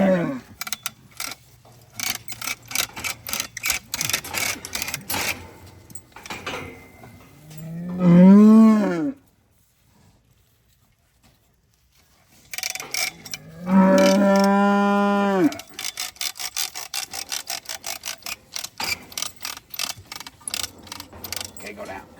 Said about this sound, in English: This is a young heifer that's calving, and she's not able to give birth by herself